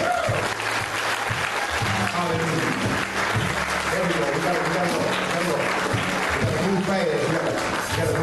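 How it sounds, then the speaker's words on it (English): A church congregation claps hands in praise during a homecoming morning service, producing loud, sustained, dense clapping that carries on throughout, mixed with voices and crowd noise underneath. "Give the Lord a hand clap of praise."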